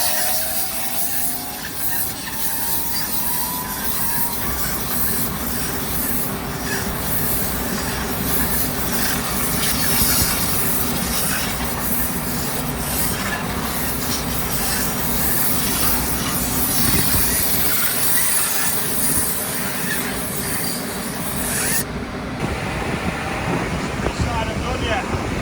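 A steady, loud whooshing roar of blowing air runs throughout, constant and broadband, cutting partly in the final seconds.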